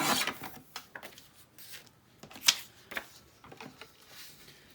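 Paper being cut for a black and white journal, a series of sharp scraping and snipping strokes with irregular spacing, close and moderately loud with no talking.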